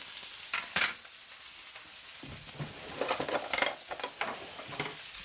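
Chopped Swiss chard frying in olive oil in a pan, a steady close sizzle with scraping stir strokes rising and falling throughout, no talking.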